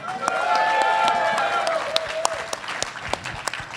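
An audience applauds loudly at first, the clapping thinning to scattered claps as it fades, with a bit of talk underneath.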